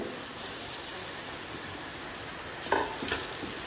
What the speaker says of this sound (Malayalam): ഓയിലൊന്ന് ചൂടായി വന്നാൽ പഴം ഇട്ട് നല്ലോണം ഒന്ന് വാട്ടി കൊടുക്കാം.